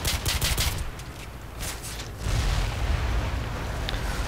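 Airstrike explosions in the Call of Duty 4 video game: loud, broad rumbling blasts and rolling booms close by, surging in two heavy waves with no talk over them.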